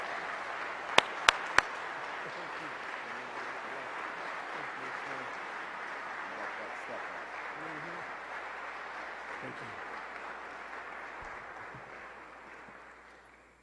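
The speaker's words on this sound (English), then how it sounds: "Let us receive him with a warm round of applause." An audience at a ministry gathering gives a warm, sustained round of applause, a dense steady wash of clapping that gradually fades out toward the end.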